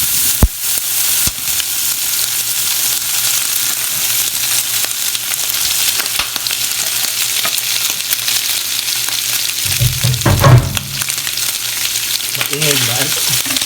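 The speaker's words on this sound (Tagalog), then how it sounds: "Then, lutuin na natin yung ating spam." Canned Spam slices frying in a pan beside eggs, a steady close sizzle and crackle throughout with occasional louder spits and stirring clatter, no talk.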